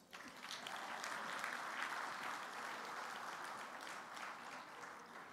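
An audience at a university anniversary lecture in a hall breaks into sustained applause, a broad and even wash of clapping that swells and holds for several seconds, heard at some distance.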